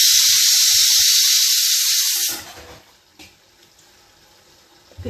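Water pours loudly and steadily as cooked food is drained through a sieve, the rushing flow cutting off abruptly after about two seconds and leaving faint clatter and quiet handling sounds.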